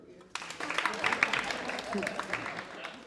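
Scattered clapping from the women in a comedy club crowd continues, uneven and moderately loud, with voices and murmuring mixed in.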